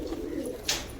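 A pigeon coos softly in a brief low murmur, with faint background noise around it.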